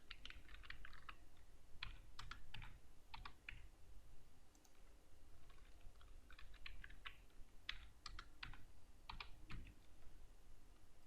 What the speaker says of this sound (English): type password